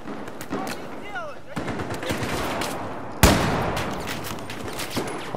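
Battlefield 4 gunfire: scattered rapid shots and short automatic bursts, one loud sharp blast midway followed by a burst of continued firing, mixed with someone talking.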